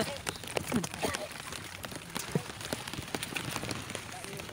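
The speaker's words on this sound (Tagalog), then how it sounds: "Maulan, maulan, maulan." Rain falls steadily outdoors during net fishing, a dense pattering hiss with scattered drops, while people talk over it.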